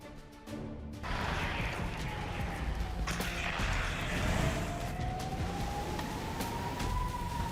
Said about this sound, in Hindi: एक बार फिर पोलैंड में हमले का अलर्ट सायरन गूंजने लगा है।